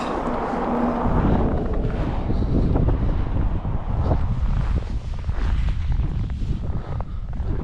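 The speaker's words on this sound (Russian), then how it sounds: "Ветреная погода." Strong mountain wind gusts roar and buffet the microphone continuously, a low rushing noise that swells and dips without pause.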